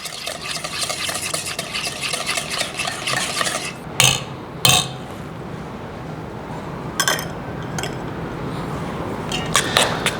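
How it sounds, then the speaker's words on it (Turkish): A wire whisk beats labneh with garlic in a bowl, a rapid rhythmic swishing at first, then broken by sharp clinks against the bowl and quieter stirring, close and without talk. "Şimdi labne ve içindeki malzemeler daha homojen bir karışım alsın diye hafif çırpma teliyle çok fazla sulandırmadan karıştırıyorum."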